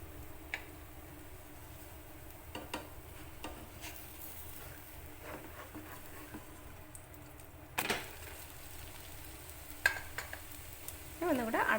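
Breakfast food frying gently in a pan over a low flame, a faint steady sizzle broken by occasional clicks and scraping taps of a utensil, with no one speaking.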